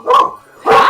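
Two loud dog barks close by, each short and sharp, separated by a brief pause.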